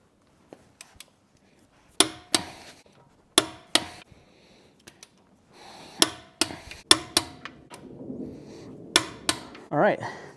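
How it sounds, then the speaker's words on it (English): A torque wrench set to 130 pounds tightens the lug nuts on a Tesla Model Y wheel in a star pattern, giving a series of sharp, close metallic clicks at irregular intervals with faint handling noise between them. "Torque these down in a star pattern."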